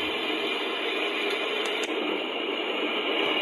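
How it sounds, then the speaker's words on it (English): Ocean sleep sound from a Sharp projection alarm clock: a steady, broadband wash of surf-like noise, continuous and fairly loud, with no voices over it. "Ocean."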